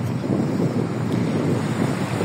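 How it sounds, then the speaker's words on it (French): Ocean waves wash in a continuous broadband surf roar, steady and fairly loud, with wind rush mixed in and no voices. "bruit des vagues"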